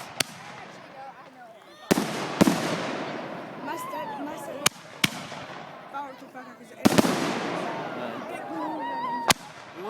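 Fireworks going off outdoors at a New Year celebration, with sharp loud bangs and crackling bursts scattered through the stretch while people talk and chatter continuously in the foreground.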